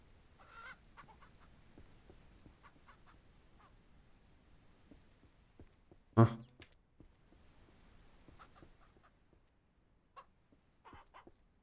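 Chickens in the farming video game Ranch Simulator give scattered soft clucks and one louder squawk, faint against a quiet background, with someone speaking at times.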